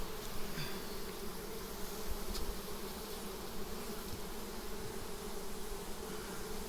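Steady, dense buzzing of many Carniolan honeybees in an open hive with many drones, a continuous close hum with no voices over it.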